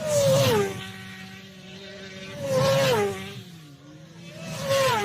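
Racing motorcycles in a road race scream past one after another, each pass a loud rising and falling engine howl in three distinct waves with a fading whine between them.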